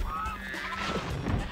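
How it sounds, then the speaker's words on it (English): A goat in the video game Spyro 2: Ripto's Rage gives a loud, strained bleat within a dense layer of game music and sound effects. "Goat! It's a goat!"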